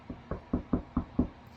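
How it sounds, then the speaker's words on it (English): Six evenly spaced knocks on a back door, close and clear with a steady rhythm and no talking. "she came up to Aunt Maudie and Uncle Fred's back door and she knocked on it"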